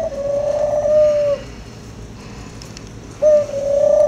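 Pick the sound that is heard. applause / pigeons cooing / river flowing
pigeons cooing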